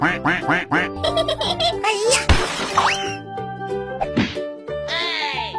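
A cartoon duck quacks in a quick, bright run of calls mixed with busy music and cartoon sound effects, with character voices sounding in between.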